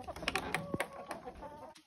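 Several chickens cluck softly nearby in short, scattered bursts, with faint rustling and bird chatter in the background.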